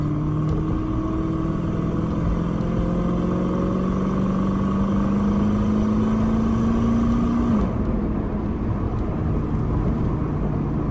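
Steady road noise and engine hum from inside a Lexus LS cruising on a bumpy road, with a slowly rising engine tone that drops away near the end, no talking.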